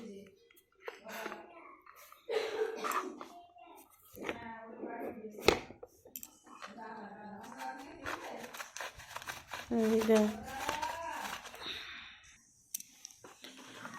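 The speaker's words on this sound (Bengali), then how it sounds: "তো এইভাবে সাবানটা গ্রেট করে নিচ্ছি দেখতেই পাচ্ছ" Bar of soap grated by hand at home, a series of short scraping rasps in uneven bursts, mixed with nearby talking that runs through most of the stretch.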